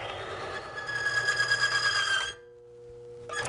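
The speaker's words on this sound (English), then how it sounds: "We'll turn this on and you'll see the oil flinging from the roller." An oil film strength test machine whirs steadily with its spinning roller flinging oil, a bright mechanical tone with harmonics for about two seconds before it abruptly winds down to a low hum, then a brief buzz returns.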